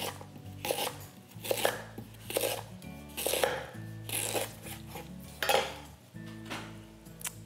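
A knife slices ginger root on a cutting board in a series of sharp, distinct chops, alternating with short pauses, near and alone, with faint kitchen clatter and a low steady hum underneath.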